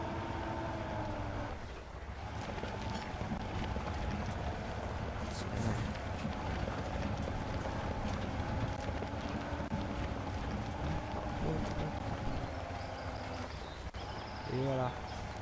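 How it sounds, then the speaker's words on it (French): A steady truck engine drone from the off-road game Spintires rumbles continuously with rough, bumpy noise over it and brief whistling tones near the end, loud and close throughout. "On entend le moteur qui est chaud."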